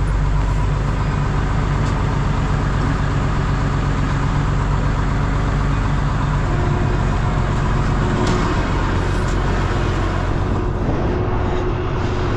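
Semi truck with a loaded tanker trailer, running steady and close as it is engaged to slide the trailer forward, a constant low engine rumble throughout with no talk.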